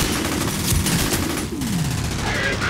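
Rapid automatic gunfire from a weapon with heavy recoil rattles in a continuous burst during F.E.A.R. gameplay, dense and loud with layered game sounds and no pause.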